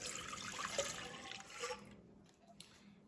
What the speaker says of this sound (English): you want to pour your milk into the bowl